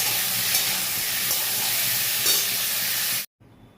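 Potatoes fry with turmeric in a pan, giving a constant close sizzle that cuts off abruptly near the end and leaves a faint low hum.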